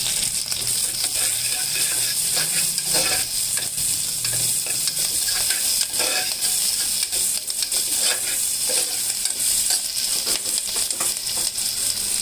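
Curry leaves and green chillies sizzle steadily in hot oil for ponnaganti kura pappu, a continuous bright hiss with occasional scraping stirs, close and fairly loud.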